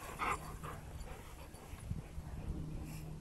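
A puppy and an older dog play together, giving faint whimpers and soft yips over low outdoor background noise.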